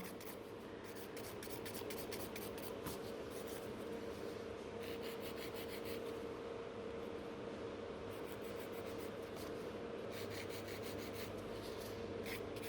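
Steady, continuous rasping of a file on sculpted builder gel nail extensions, close and quiet, with faint rhythmic strokes throughout and no talking.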